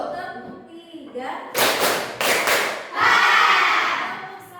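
Group hand clapping from a class of students, a short patterned burst of synchronized claps after the teacher speaks, followed by children's voices.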